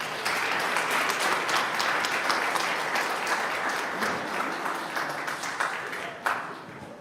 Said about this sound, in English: let's welcome them and honor this dedication with some applause